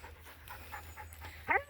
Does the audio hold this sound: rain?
no